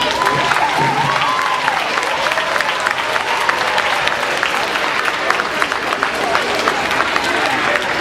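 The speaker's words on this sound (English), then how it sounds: "We want all of our bus drivers to stand up so we can give them a big round of applause" Bus drivers standing at a party are greeted with a lively round of applause from the crowd, brisk clapping mixed with scattered cheers and overlapping voices, continuing steadily for several seconds.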